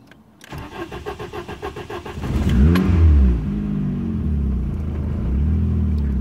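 A car fitted with Megasquirt engine management and launch control cranks with a rapid starter whir, catches loudly, flares briefly, then settles into a steady, close rumbling idle.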